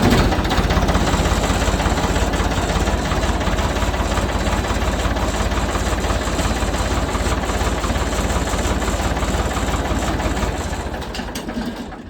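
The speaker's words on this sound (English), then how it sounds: "I think the old tractor even starts and runs better." An old Ford 3000 tractor engine runs steadily just after a fuel filter change, giving a loud, close, continuous chugging idle with no talk, easing off slightly at the end.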